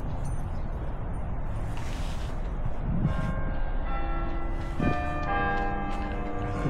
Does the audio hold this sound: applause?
no